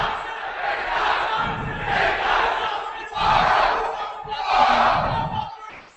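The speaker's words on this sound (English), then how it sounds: "This is definitely an interesting cheer" A swim team's chanted cheer at a boys' high school swimming meet, crowd voices rising in four rhythmic rounding bursts, loud and echoing as if in an indoor pool hall.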